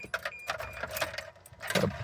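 Keys jangle and clink close by in a few quick shakes, light metallic rattles over a quiet background.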